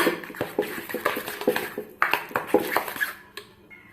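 Spoon clinking and scraping against a bowl while rice flour batter is stirred with water added a little at a time, a steady run of close, light clattering strokes with no talking.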